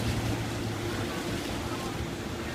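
A speed boat on the water in Brunei, heard as a continuous rumble of engine and water spray mixed with wind, steady and fairly close for a couple of seconds.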